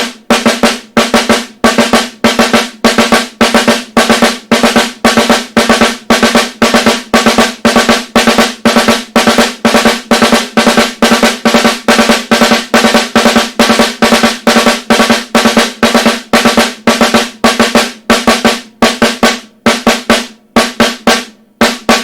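A snare drum plays a steady, rapid alternating pattern of quick strokes and accents, crisp and close, continuing without pause.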